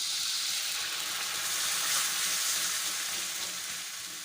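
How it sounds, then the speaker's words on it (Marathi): Jaggery syrup, made from finely chopped jaggery and water, bubbling and sizzling in a pan as a continuous, dense, even hiss at close range. "आपला पाक बघू शकता कसा फुसफुसतो आहे"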